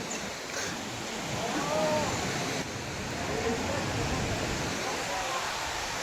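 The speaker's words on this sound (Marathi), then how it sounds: "ते धबधबा आहे." Steady broadband rush of the Shivthar waterfall fills the air from a distance, a continuous wash of falling water with a faint tonal whine drifting through partway, no clear voices over it.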